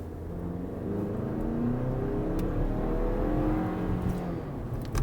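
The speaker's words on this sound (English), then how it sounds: "the soundtrack from the engine isn't the most pleasing, as I will demonstrate now." A 2024 Lexus RX 350 F-Sport SUV engine drones steadily at a low pitch, its tone rising and falling slightly as it revs, fairly loud and continuous with no talking.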